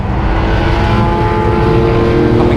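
Loud, steady engine roar from a Mercedes-AMG GT R or Porsche 911 GT3 RS at full throttle on a race track, holding a continuous high-revving drone for the whole stretch with no talk over it.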